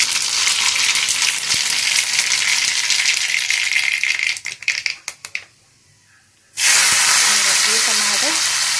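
Tomatoes and green chillies hit hot oil with a loud, steady sizzle and crackle close by, which breaks into a few sharp spits, drops to near silence for about a second, then bursts back into full frying hiss.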